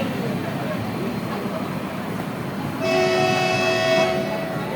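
Rumbling Mumbai suburban railway station ambience with a slow local train to Parel on platform 1, its horn sounding a sustained tonal blast partway through, amid background bustle.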